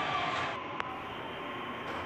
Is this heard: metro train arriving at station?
yes